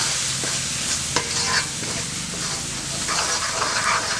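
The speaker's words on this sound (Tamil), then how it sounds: "எண்ணெயிலே நல்லா கலக்கி விட்டாச்சு." Homemade chilli powder being stirred into hot oil in a pan for a sardine fish curry, a steady close sizzle with scraping spoon strokes against the pan.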